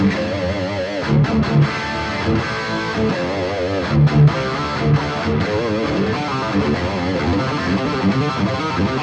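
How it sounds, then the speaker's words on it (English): Distorted electric guitar through a Boss ME-90 multi-effects pedalboard on its Brit stack Marshall-style amp preset, a dense, loud crunchy riff played continuously and close, with no talking. "It's a Brit stack, so basically a Marshall."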